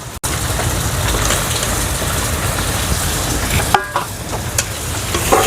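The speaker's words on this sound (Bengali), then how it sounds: "এইবারে দিয়ে দেবো মাংসগুলো, দিয়ে দিচ্ছি সেদ্ধ করে রাখা মাংসগুলো" Boiled chicken spare parts hit hot oil with spice masala, setting off a loud, dense, continuous sizzle close by, with a few clinks and stirring knocks toward the end.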